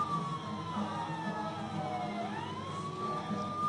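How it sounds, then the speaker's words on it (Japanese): A wailing emergency-vehicle siren from an arcade video game, its pitch sweeping steadily down and back up, loud and continuous with no talk over it. "サイレンうるせえな。"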